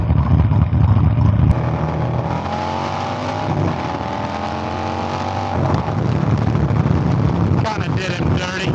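Harley-Davidson bagger motorcycle roaring hard under acceleration in a drag race, a loud sustained engine note climbing in pitch with heavy wind buffeting, the tone shifting as it pulls away.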